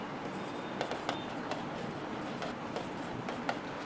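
Chalk or marker scratching on a board during a Class 11 permutation and combination maths lesson, a steady run of small rubbing strokes with a few sharper taps, close and moderately quiet with no talk.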